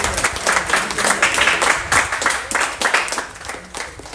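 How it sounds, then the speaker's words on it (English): Audience at a St Catherine softball association opening ceremony claps in uneven bursts, loud and close, swelling and fading in waves from a modest crowd. "Why don't you clap?"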